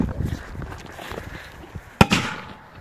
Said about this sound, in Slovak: Táto petarda je veľmi vzácna.